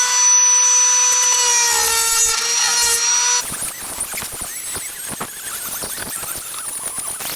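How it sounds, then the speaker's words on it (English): Close, sharp snips and scraping clicks of wire cutters biting through plastic prongs on a cracked car bumper, preceded by a high steady whine, with irregular crunchy cuts in the second half. "I'm gonna snip it with the wire cutters that were provided"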